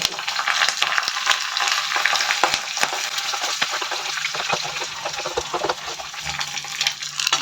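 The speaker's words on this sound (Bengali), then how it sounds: "কারি পাতাগুলো দিয়ে দিচ্ছি।" Curry leaves and a few raisins sizzling in two tablespoons of hot white oil in a small tadka pan, a close, steady crackle with sharp pops scattered throughout.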